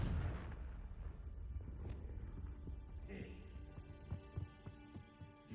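The Confringo fire spell goes off in Hogwarts Legacy with a sharp blast at the start, then a run of lighter thuds and clattering impacts that fade into quieter scattered hits.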